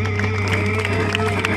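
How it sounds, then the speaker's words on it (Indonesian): A concert crowd at a live metal show claps and cheers in a short, dense burst of applause and whoops, heard fairly loud and close. "Tepuk tangan buat semangat kalian semua."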